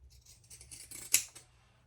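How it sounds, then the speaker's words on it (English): Pinking shears cut through fabric in a quiet room, giving a soft, brief crunching snip with one sharper close click near the end of the cut. "Now we're going to trim these, and I'm going to use my pinking shears on this fabric"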